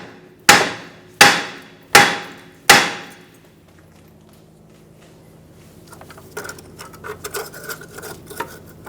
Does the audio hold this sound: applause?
no